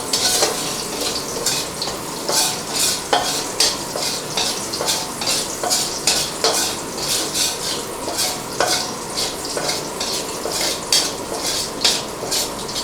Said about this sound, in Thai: อัดไปเรื่อยๆผัดให้กระเทียมเราเหลืองก่อนเนาะ